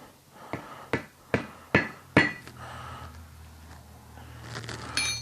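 A hammer taps five times in quick succession, seating a new hammer handle held over an anvil hole, with sharp metallic knocks followed by quieter shuffling and handling noise.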